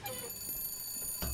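A telephone rings in the video game Bioshock Infinite, a bright bell-like ring standing alone for about a second with a steady tonal hum behind it.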